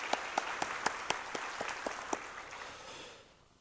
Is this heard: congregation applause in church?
yes